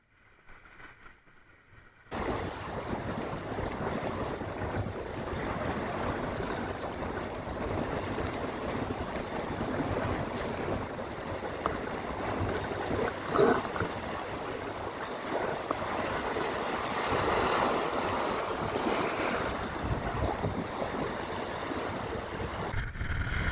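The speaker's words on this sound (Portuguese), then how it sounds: "vento de través e as ondas batendo na lateral do casco" Steady rushing wind and choppy waves slapping the side of a small boat's hull on Lagoa do Perí lagoon, a continuous close wash with brief louder slaps and no talking.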